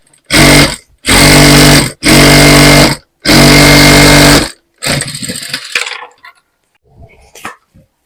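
A sewing machine stitches the shoulder of a ready-made dress that is being taken in, running in four loud, close bursts with short pauses between them, then fading into softer handling noises.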